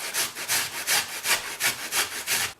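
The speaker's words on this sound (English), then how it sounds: "Just grate it" Fresh ginger, about 15 grams, rubbed on a grater in a kitchen: close, regular back-and-forth scraping strokes, roughly three per second, alone.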